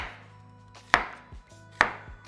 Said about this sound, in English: You can use whatever onion pretty much. Just dice it up just like this.